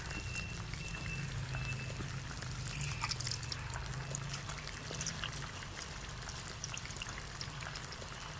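Thin potato slices for homemade chips fry in hot oil, a faint, continuous, rain-like crackling sizzle with no talking over it.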